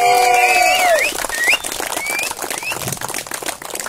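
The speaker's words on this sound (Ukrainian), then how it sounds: "Тож оплески ваші" Applause rises from the audience at an outdoor gathering of search enthusiasts, broad clapping following a sustained tone and short whistles, carrying on unevenly to the end.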